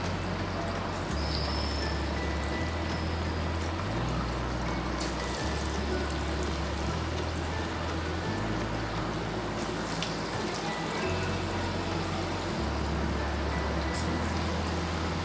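Karthigai appam batter dropped bit by bit into hot oil over a medium flame, frying with a steady, dense sizzle throughout, close and continuous with no talk.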